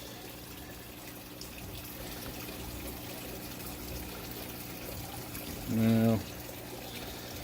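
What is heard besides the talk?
water dripping as aquarium hose is lifted out of tank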